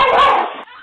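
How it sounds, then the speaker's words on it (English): A small dog barks once, sharp and close, then fades into a brief whimper. "a dog fight ensued"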